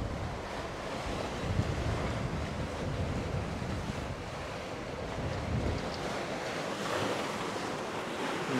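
Sea waves wash steadily around a sailing boat at night under a partial moon on a calming sea, a continuous broadband surf roar with gentle swells and some wind buffeting, no voices.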